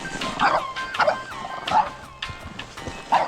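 A dog near horses gives a string of four or five loud, close yips and barks, evenly spaced with a whimpering edge.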